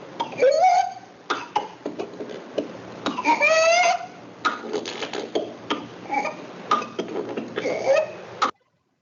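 Harsh, repeated coughing comes in clusters, with strained, high-pitched breaths drawn in between fits, close and loud.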